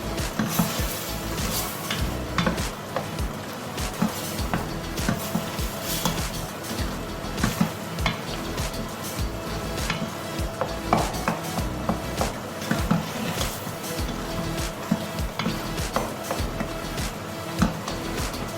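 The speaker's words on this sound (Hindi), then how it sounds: "अब हम इसको अच्छे से भूनेंगे।" Minced meat keema stir-fried in a karahi with kasuri methi, the spatula scraping and clinking against the pan in a steady, busy rhythm over a low sizzle, close by.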